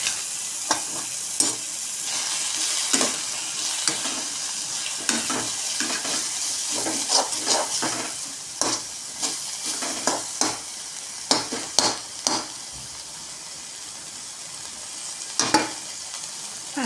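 Spinach masala with pepper and cumin powder frying in oil, a steady close sizzle broken by repeated sharp scrapes and clacks as a utensil stirs the pan at irregular intervals.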